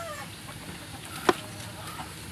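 A laying hen penned on a backyard farm lets out a single short cluck at close range over a quiet, faintly noisy background.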